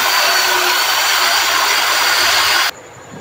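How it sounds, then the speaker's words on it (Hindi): An electric drill spinning a wire brush to clean the cylinder head of a Suzuki GS 150 motorcycle engine, a steady loud high whine that cuts off abruptly near the end. "हमने इसको साफ़ कर दिया हुआ है ड्रिल मशीन की मदद से"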